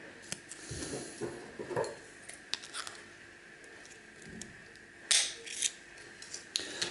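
Scissors trim a cable down to its gold connector for gold recovery, making several sharp, close snips and clicks at irregular intervals over a quiet background.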